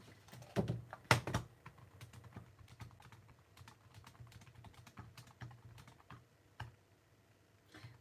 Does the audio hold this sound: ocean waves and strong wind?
no